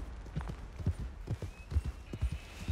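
Horse hooves clip-clop in Red Dead Redemption 2, a steady uneven trot of soft thuds at moderate distance, with no talking over it.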